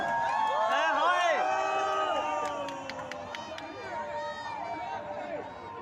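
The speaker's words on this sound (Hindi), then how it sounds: "जोरदार तालियों से स्वागत है एवरीबॉडी, कम ऑन" A lively crowd at a public event with film actress Madhuri Dixit in Sigra, Varanasi, greets a guest with loud cheering, shrill whoops and shouts, and a patter of clapping. The noise is dense and sustained and eases slightly toward the end.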